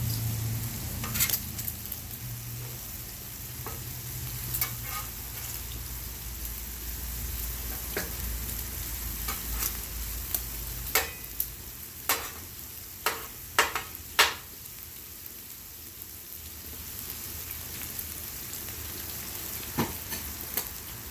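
Bacon frying on a Blackstone flat-top griddle, a steady low crackling sizzle running throughout with scattered sharper pops and spatters, loudest in a cluster midway, heard close up without any talking.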